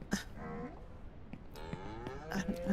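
Cattle in the video game Ranch Simulator give two drawn-out moos, the second longer and rising, set against a low background hum with a few faint clicks.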